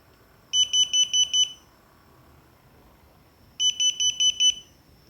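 An IoT parking-system buzzer sounds at close distance, two bursts of five rapid, loud, shrill beeps separated by about two seconds of quiet.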